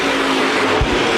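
USA Modified race cars roaring past at Winchester Speedway, a loud continuous engine drone with a brief low surge near the end as a car passes close.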